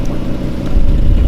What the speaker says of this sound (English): Oh, he's revving her.